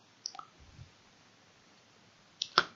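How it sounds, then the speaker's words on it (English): A computer mouse clicking during hospital software navigation, giving two faint, sharp clicks, one early and one near the end, separated by quiet room hiss with no talking. "So click on a cabin 3."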